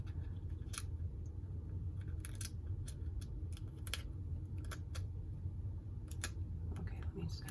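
Scissors snipping through sticky transfer tape during a Cricut vinyl craft project, a series of quiet, sharp clicks and cuts scattered over a soft room hiss.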